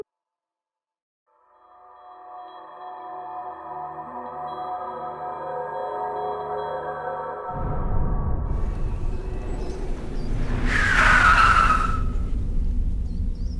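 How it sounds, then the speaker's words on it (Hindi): A car skids to a stop, a loud broadband tire screech with a sharp squeal peak near the end, following the steady hum of the engine approaching on the road. "गाड़ी क्यों रोकी?"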